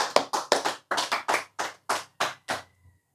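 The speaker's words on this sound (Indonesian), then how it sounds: "Tepuk tangan." Hand clapping at a religious gathering, about a dozen distinct, evenly paced claps of moderate loudness, each crisp and separate, slowing slightly before stopping.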